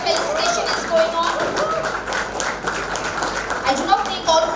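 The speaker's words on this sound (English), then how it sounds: "All of you please give a huge round of applause while the felicitation is going on." A crowd claps in a busy, uneven patter while voices talk over it and a few bright tones ring out now and then.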